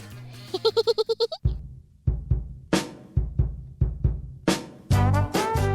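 Two sheep bleat in a farm setting, starting with a long wavering cry and then several short, loud bleats in an uneven sequence, close to the listener with no talking.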